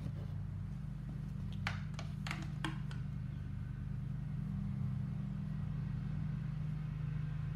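A 2001 Kawasaki ZX6R engine cranks over during a cylinder four compression check, a steady low mechanical drone with a few sharp clicks early on.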